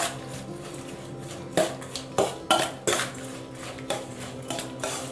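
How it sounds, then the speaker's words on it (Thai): Thai glass noodle salad is tossed in a bowl with utensils, making a string of sharp clinks and scrapes against the dish at an irregular pace, close up, with no talk. "คลุกเคล้าให้เข้ากันเลยครับ"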